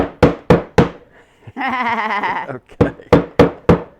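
Hammer knocking on barn wood in sharp, loud, evenly spaced strikes, three at the start and five at the end, with a single spoken word in the pause between them.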